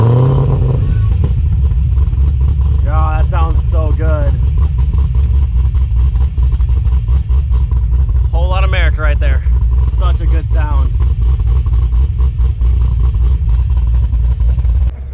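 A car engine idles with a deep, steady rumble and revs up under it at a Cars & Coffee meet, while people talk briefly over the engine noise.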